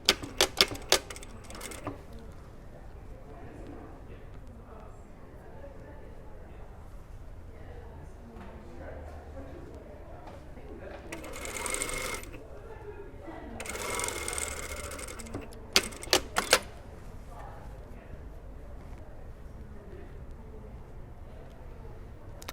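A sewing machine stitches a patch pocket with darted corners in two steady whirring runs of rapid needle chatter, close and moderately loud, framed by brief clicks and handling knocks at the start and end.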